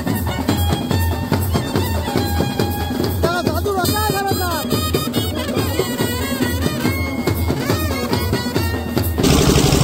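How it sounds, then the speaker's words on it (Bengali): A band party plays in the Santipur Rash procession, a dense, steady wall of loud brass and drums with a driving beat and crowd noise underneath, continuous throughout. "দেখো অসাধারণ ব্যান্ড পার্টি।"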